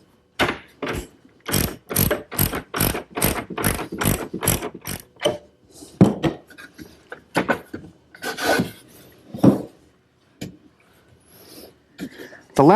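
A ratchet wrench cranks a locking nut onto a long carriage bolt through washers for a wooden chaise lounge, giving a close run of about nine sharp, evenly spaced clicking bursts, followed by scattered rubbing and clanks of hardware.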